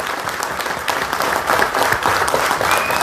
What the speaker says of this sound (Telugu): లేచి నిలబడి చప్పట్లు కొట్టాలి 2 నిమిషాలు గట్టిగా గట్టిగా గట్టిగా.